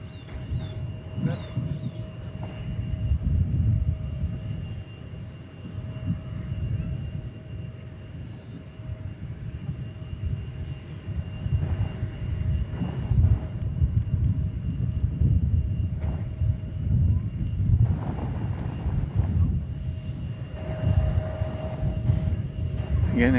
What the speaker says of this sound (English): Off to Los Angeles goes this Queen of the Skies.